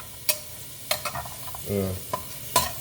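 Food sizzles in a hot pan while a utensil stirs it, giving a few sharp scrapes and clinks over a steady, close frying hiss, with no talk.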